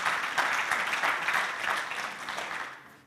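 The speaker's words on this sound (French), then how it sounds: "on peut applaudir une nouvelle fois nos deux intervenants" A seminar audience claps for two presenters at the close of a talk on modelling connected micro-sensors, a dense, even patter of hands that thins and fades out.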